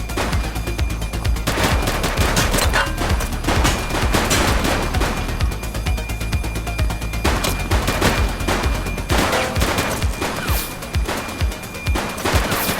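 Gunfire from the police video game The Precinct comes as loud, dense rapid bursts of automatic and single shots, repeating throughout with brief gaps, and no speech.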